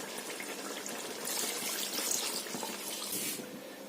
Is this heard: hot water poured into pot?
yes